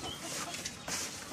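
Native Filipino chickens at feeding time, a short burst of close, soft clucking and rustling.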